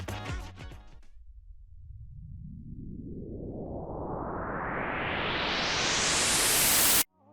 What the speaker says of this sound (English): And we have our white noise sweep.